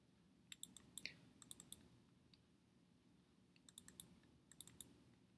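A computer mouse is double-clicked while working in flow cytometry analysis software, giving faint, close, crisp clicks in three short clusters separated by quiet pauses.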